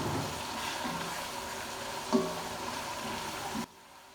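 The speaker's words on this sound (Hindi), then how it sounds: "इन सब चीज़ों को अच्छे से मिक्स करेंगे" Chili, salt and tamarind being stirred together in a pan for chana pulao, a steady soft scraping and low sizzle with one brief louder knock near the middle, ending abruptly.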